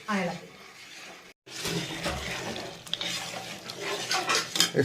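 A spoon stirs ada payasam cooking with jaggery in a pot, scraping and clinking in an uneven rhythm close by, with a short break partway through and people talking over it.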